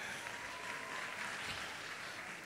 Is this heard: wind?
no